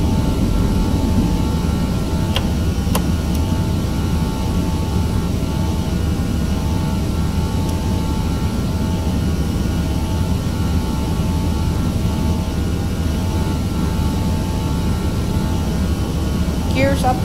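A Vietjet Airbus A320 climbs out after takeoff from Hong Kong, its jet engines giving a steady, loud, broadband roar heard from inside the aircraft, unbroken throughout.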